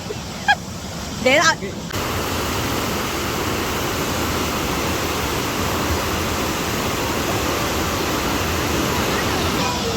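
The Chalakudy river rushes past in a steady, broad roar of flowing water, heard close and continuous, with short bursts of voices over it in the opening seconds.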